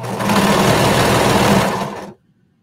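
A sewing machine stitching a bralette seam with a 3/8 inch seam allowance runs in one steady, loud, close burst for about two seconds, then stops abruptly into near silence.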